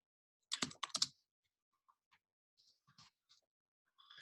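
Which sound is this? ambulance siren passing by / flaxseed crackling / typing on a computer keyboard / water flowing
typing on a computer keyboard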